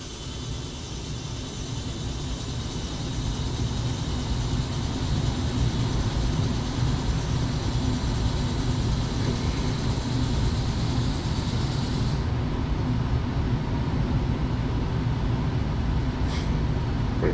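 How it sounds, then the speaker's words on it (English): A newly installed Goodman heat pump's motor ramps up, a steady, loud broadband whir that swells slightly over the first few seconds and then holds level throughout. "So I hear the motor ramping up."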